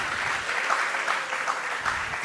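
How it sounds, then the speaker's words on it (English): Audience applause for the Vice Chancellor of Bowen University at a university convocation ceremony, a steady wash of clapping from a crowd that holds even throughout. "A round of applause for him"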